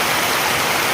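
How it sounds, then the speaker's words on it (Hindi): Heavy rain pours down at a temple in a steady, loud, broadband hiss with no talk, continuous for the whole second. "आज पानी गिरत लगते झमाझम"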